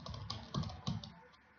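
Quick clicks on a computer keyboard while writing C# code, a few soft keystrokes with two slightly stronger taps in a short, close burst that fades at the end.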